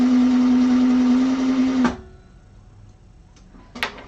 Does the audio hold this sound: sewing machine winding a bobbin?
yes